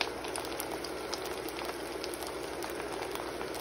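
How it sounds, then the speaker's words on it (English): An egusi soup mixture fries in a pot, giving a steady faint sizzle with fine crackling pops throughout and no voices. "After our mixture has been frying for the last 5 to 7 minutes"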